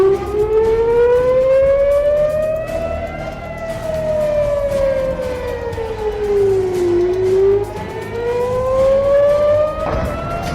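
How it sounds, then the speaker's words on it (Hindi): Air raid warning sirens wail across Israel during the Iran-Israel conflict in slow rising and falling sweeps, loud and carrying, with a second siren overlapping in the distance. "पूरे इजरायल में चेतावनी के सायरन बज उठे"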